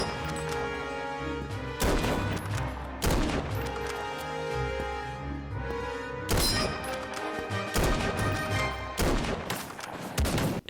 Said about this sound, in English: that could have been a nice one if I landed that first shotgun shot